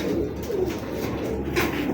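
Small pigeons, a Marcel among saddle pied racing pigeons, cooing in low, throaty repeated calls close by, with no speech over them.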